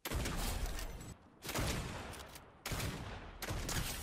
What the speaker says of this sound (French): On va le terminer avec l'arme de Zig.